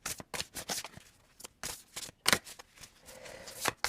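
Tarot cards are shuffled by hand in quick, close, crisp bursts of riffling and sliding, with short pauses between runs and no talking.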